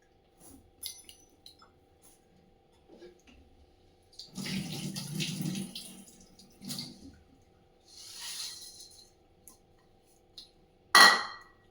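Items washed by hand under a running tap in a sink: bursts of splashing water come and go, with a longer gush in the middle and a sharp clink of dishware at the end.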